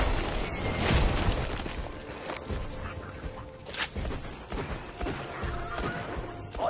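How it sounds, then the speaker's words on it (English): Distant gunfire crackles through a dense, steady wash of noise in the shooter game Borderlands 2, with scattered sharp bursts sitting low in the mix and no talk. "I'm hearing more gunfire than usual."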